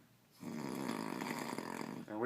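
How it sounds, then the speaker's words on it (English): A man snores while asleep, one long, rough, rattling breath drawn in close to the microphone and then a short snort at the end. "you're snoring"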